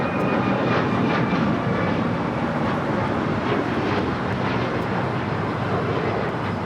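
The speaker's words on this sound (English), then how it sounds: "runway 25 right, clear for takeoff" An airliner takes off from runway 25 right at LAX, its engines a loud, steady broadband roar that fills the whole stretch and stays nearly constant with no voices over it.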